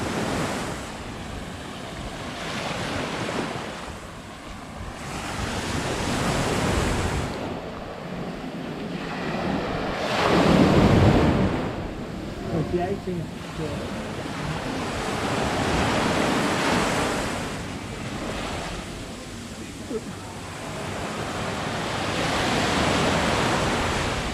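Ocean waves break on Lanai Beach in Koh Samui, a loud, rolling surf that swells and fades in long surges. Steady wind buffets the microphone, and no voices are heard.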